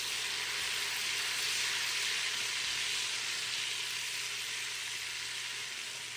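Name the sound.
butter melting on medium heat in a large pot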